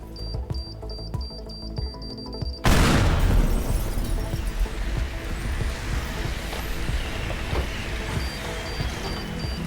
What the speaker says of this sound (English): So we'll just bomb our way through these buildings.